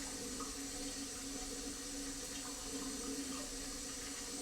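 Water and rice pour steadily into a sieve in a kitchen sink, a continuous close rushing splash with no pauses or talking.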